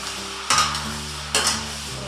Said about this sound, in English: Take this and go ahead and give it a stir. It's starting to sizzle really good.